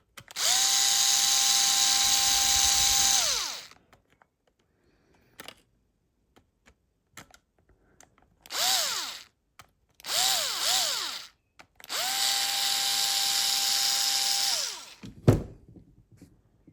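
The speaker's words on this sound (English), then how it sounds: "I grab my Torx T8 screwdriver and I unscrew" Several bursts of a powered driver whirring while unscrewing Torx T8 screws from a Dyson V11 vacuum during motor replacement: a long spin, a couple of short pulses, then another long run, close up, ending in a thunk.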